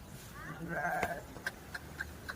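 A Kathiawari sheep bleats loudly and close, a drawn-out wavering call, followed by several short sharp clicks spaced about half a second apart.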